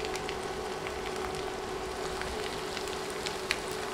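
Carrots, tomato and capsicum fry in a pan for chow mein, giving a steady, even sizzle with faint crackles throughout and no talk.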